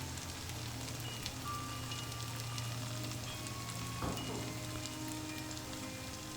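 Rösti of grated potatoes and onions frying in butter in a pan, giving a steady close sizzle with soft crackles and one brief clatter partway through, no talk.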